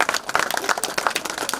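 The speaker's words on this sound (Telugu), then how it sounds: "చార్లెస్ గారికి గట్టిగా చప్పట్లు కొట్టండమ్మా." Dense, steady clapping from a church congregation at a church opening ceremony, many hands applauding close by and filling the space without pause.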